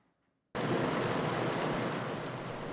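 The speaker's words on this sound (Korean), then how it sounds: "보글보글 끓어오르는 소리와 함께 맛있는 냄새가 공간 한켠을 가득 채웁니다" Ramen noodles boil in a pot on a cooking machine at a ramen café, a steady, loud bubbling wash that starts suddenly and continues alone without talk.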